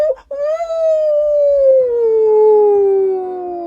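A single long, loud werewolf howl rises briefly and then slides slowly downward, holding one sustained, mournful tone for several seconds close by.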